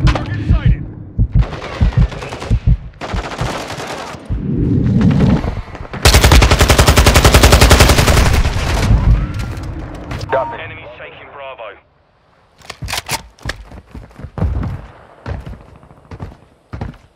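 Loud Call of Duty gunfire comes in rapid automatic bursts and single heavy shots, with thuds and mechanical clanks. Game voice callouts are heard over the shooting and in the pauses between bursts.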